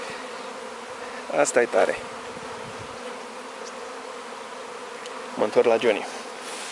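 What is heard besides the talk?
buzzing swarm of honeybees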